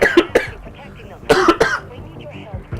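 A person with asthma breaks into a coughing fit: two sharp close coughs, a short pause, then two more harsh coughs with throat clearing and breathy sounds between.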